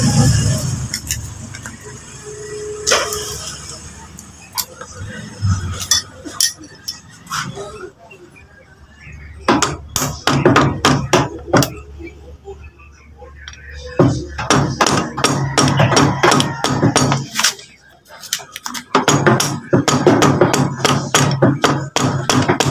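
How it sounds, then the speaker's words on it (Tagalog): Hammer blows driving the piston pin out of a Honda TMX Supremo piston during a top overhaul, rapid metallic taps in bursts with short pauses, close and sharp, with no talking. "Tsaka natin pukpukin yung piston doon sa piston pin sa likod."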